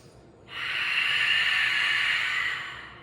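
One long, deep nasal inhale during a yoga breathing practice, close and loud. It starts abruptly after a quiet moment and holds steady for about two seconds before fading, with no talking.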